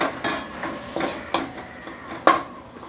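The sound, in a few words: stirring soaked chana dal into onions in a pan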